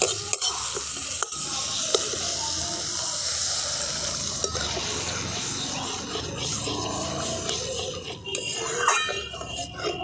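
Water goes into a pan of fish curry masala for tel koi, the spice paste already fried until the oil separates, giving a steady close wash of pouring and sizzling with faint utensil clinks throughout.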